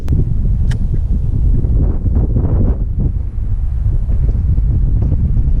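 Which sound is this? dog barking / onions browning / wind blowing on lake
wind blowing on lake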